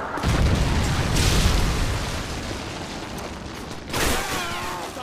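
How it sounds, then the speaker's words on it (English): Loud game explosion from a Predator missile strike in Modern Warfare 3 on the Bakaara map, a broad rumbling boom over battle noise, with a second burst near the end. "Friendly Predator missile inbound."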